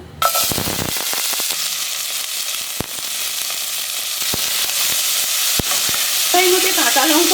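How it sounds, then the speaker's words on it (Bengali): Mixed vegetables sizzle loudly in hot oil in a kadai, with sharp scraping clicks of a spatula stirring the pan at irregular moments. "কড়াইয়ে তেল দিয়ে দিয়েছি এবার সমস্ত সবজিগুলো আমি দিয়ে দেবো"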